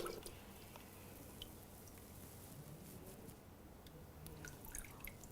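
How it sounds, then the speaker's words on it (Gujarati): Faint water drips and trickles fall steadily from a sieve lifted out of paper-pulp water, with small irregular splashes over a soft watery background. "ચાળણીમાંનું પાણી પણ આપણે નિતારીશું"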